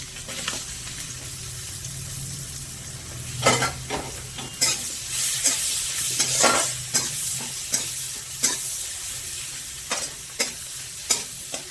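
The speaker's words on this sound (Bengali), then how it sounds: "এবার কুচিয়ে রাখা একটা পেঁয়াজ দিয়ে দিলাম।" Chopped onion frying in oil with clove, cardamom and cinnamon for a chicken stew, a steady close sizzle broken by repeated sharp scraping strokes of a spoon stirring the pan.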